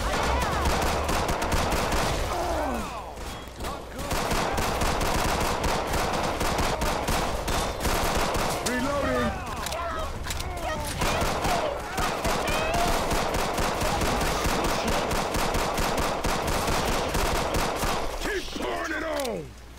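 Shotgun blasts in the video game Left 4 Dead 2 ring out as repeated sharp bursts in fast volleys, loud and dense over a busy game soundscape, with brief lulls between clusters and players talking at times.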